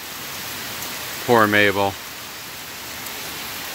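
Steady rain drums on a car in a stormy downpour with lightning, a constant dense hiss throughout, briefly interrupted by a short spoken remark from a woman.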